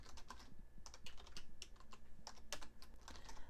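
Quick, uneven clatter of keys on a computer keyboard as a person types, close and fairly quiet with short bursts and brief pauses. No one speaks.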